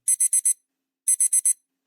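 An alarm clock goes off in two loud, clear bursts of four rapid high-pitched beeps each, separated by a short silence, with no other sound around it.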